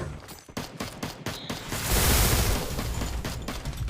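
A rapid burst of gunfire rattles in the Free Fire video game, with several sharp shots followed by a louder, sustained barrage of shooting that stays close and dominant.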